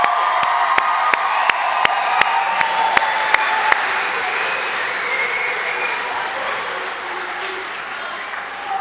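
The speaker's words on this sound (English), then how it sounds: "let's give us all a round of applause for our amazing achievement" At a sports awards event a crowd breaks into loud applause with cheers and whoops, several sharp regular claps standing out early before the clapping settles into a continuous roar.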